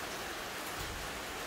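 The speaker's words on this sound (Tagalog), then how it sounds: "makakita gali mig ulan diri sa Karata" Rain falls steadily in Karata, a dense, even hiss of drops that stays at one level throughout, with no voices.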